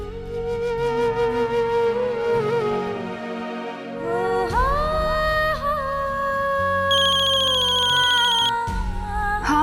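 A mobile phone rings with an incoming call, its melodic ringtone repeating loud and clear over soft background music, with no talking.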